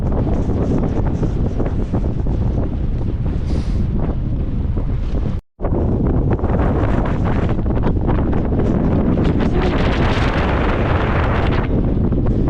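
Loud wind noise roars across the microphone in rough, unbroken gusts on a fell walk round Coniston Old Man, briefly cutting out for a moment before the heavy buffeting resumes.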